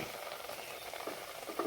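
A tempering of spices in oil sizzles into a dried shrimp and yellow cucumber curry, a soft, steady frying hiss close by with a few brighter crackles near the end.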